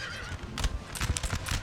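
A horse whinnies loudly in a Napoleon: Total War battle, over a busy backdrop with rumbling and clattering hooves and horse-drawn artillery, all brief and close.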